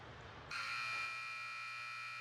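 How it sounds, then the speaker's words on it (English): A loud electronic buzzer sounds in an ice hockey arena to end a period between the Cake Eaters and the Grizzlies, a sudden sustained blaring tone holding steady for nearly two seconds over a quiet background. "And there's a buzzer."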